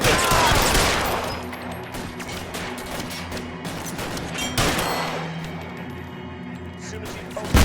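A gunfire exchange in the video game LA Noire, with rapid, loud cracking shots in bursts and scattered single reports echoing over a low background rumble.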